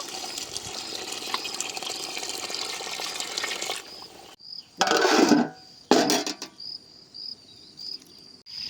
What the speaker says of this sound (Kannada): ನೀರು ಹಾಕೊಂಡು ಚಿಕನ್ನ ಬೇಯಿಸ್ಕೊಳ್ಳೋಣ